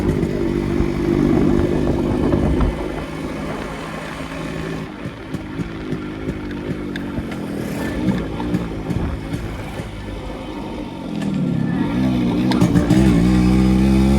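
A completely restored Yamaha RX 100, a 100cc vintage two-stroke motorcycle, rides past nearby, its engine droning and revving, dropping to a quieter idle-like stretch before swelling loud again.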